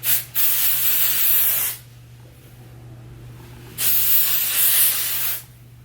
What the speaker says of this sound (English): spray it in your hair, and it's like a super fine mist